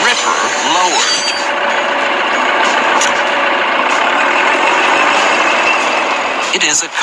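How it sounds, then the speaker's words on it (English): A concrete mixer truck at a construction site gives off a loud, continuous engine drone mixed with a rough grinding, rasping texture that holds steady throughout. "It is a concrete mixer truck."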